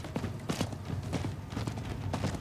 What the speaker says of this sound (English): I can ride a horse too